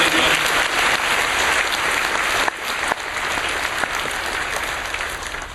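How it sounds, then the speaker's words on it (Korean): A congregation applauds in a Korean church service, dense sustained clapping filling the space steadily, with a brief dip midway before it carries on at full strength. "다시 한번 박수로"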